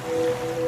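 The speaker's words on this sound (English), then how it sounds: "now you're drifting asleep to the scent and sound of waves" Ocean waves wash in a laundry detergent advert, a soft steady surf-like hiss with a faint sustained tone, brief and continuous, with no voices.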